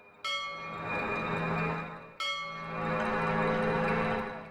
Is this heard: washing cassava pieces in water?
no